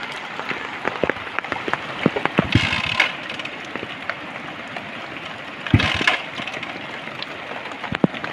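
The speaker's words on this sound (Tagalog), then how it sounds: "Ang hirap ng panahon na nag-ulan-ulan pa." Rain falls steadily on a surface, a continuous dense patter with a few louder gusts and drips, heard alone without voices.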